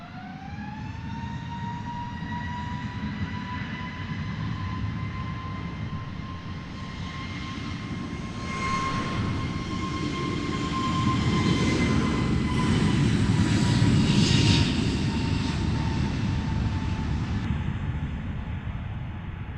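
EasyJet airliner taking off at London Luton Airport, a sustained jet engine roar with a rising whine that swells toward the middle and lingers, heard from the airfield edge with no talk.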